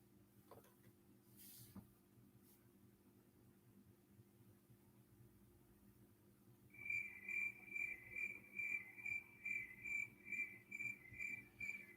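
Crickets chirping in a steady, evenly pulsed rhythm that starts partway through, following several seconds of faint hum and room noise; the chirps are clear and fairly close with no talking.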